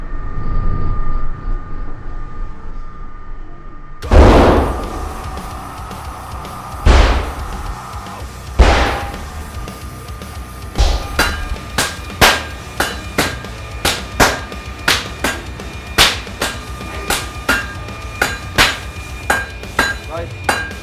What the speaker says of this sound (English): So we've done the bashing on the anvil.